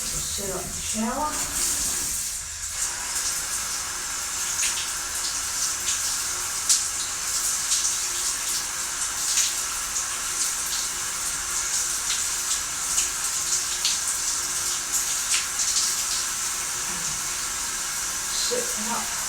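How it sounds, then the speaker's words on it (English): Shower water runs steadily as a continuous broad hiss throughout, fairly close, with a few faint bumps and small handling noises over it. "Set up the shower."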